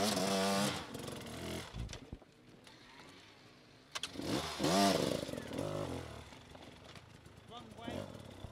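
A Husqvarna motocross motorcycle races at an extreme enduro event, its engine revving and buzzing loudly, then fading and surging again as it passes, under continuous commentary.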